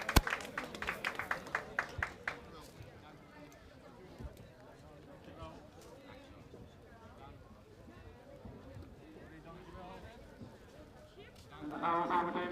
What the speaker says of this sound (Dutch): geef het nog één keer voor de organisatie ook een enorm applaus